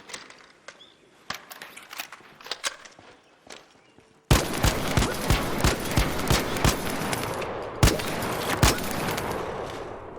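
Shotgun blasts in ARC Raiders player-versus-player combat, a few scattered shots and footsteps at first, then a dense run of loud, sharp reports in uneven rhythm over a busy, noisy background.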